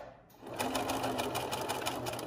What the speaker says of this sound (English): I'm gonna stitch backward to secure